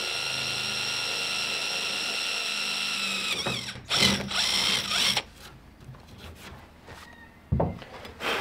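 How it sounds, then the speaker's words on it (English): A power drill whines steadily while boring holes in a wooden oak strip, then stops; brief clunks and handling sounds follow in a quieter workshop. "I drilled a couple of holes in one of the strips"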